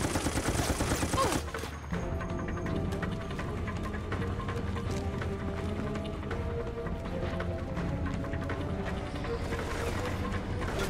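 Assault rifle fire in Resident Evil: Operation Raccoon City rattles in a loud burst at the start, then gives way to steady game music and scattered shots and footsteps.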